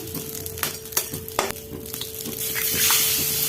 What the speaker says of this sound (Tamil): அடி பிடிக்காமல் லோ ஃப்ளேமில் வச்சு கலக்கி விட்டுக்கிட்டே இருங்க